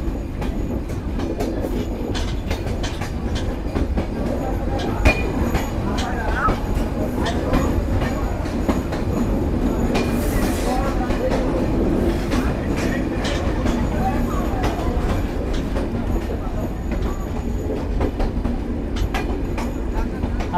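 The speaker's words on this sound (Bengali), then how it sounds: "বিকেল 4:42 আমাদের ট্রেন ছেড়ে গেল পোড়াদহ জংশন রেলওয়ে স্টেশন" Kapotaksha Express, on its Rajshahi to Khulna run, rolls steadily on after pulling out of Poradah Junction, with a continuous loud rumble of wheels on rail and faint rhythmic clatter throughout.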